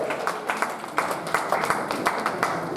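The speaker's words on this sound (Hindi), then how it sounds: "जोरदार तालियां हो जाए सर के लिए" An audience at a seminar in Varanasi claps in a brief, moderately loud burst of applause, with individual claps audible through a steady patter.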